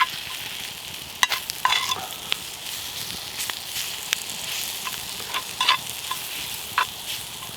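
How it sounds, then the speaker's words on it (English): Kidneys sizzle with onions in a pan over an outdoor woodland cooking fire, a continuous crackling fry broken by sharp pops and the scrape of stirring, heard alone without talk. "once you're happy with the onions, you can put in your kidneys"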